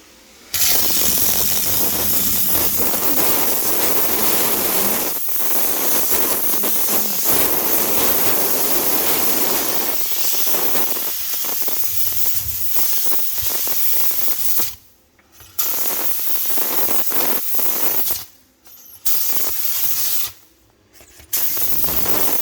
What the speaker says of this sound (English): We are gonna start using our vapor steamer with this